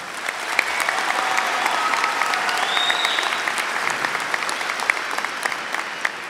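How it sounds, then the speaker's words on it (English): An audience at a university fall commencement claps for honored graduates, a dense, steady ovation with a few sharp individual claps standing out and thin whistles above. "Let's give them a round of applause."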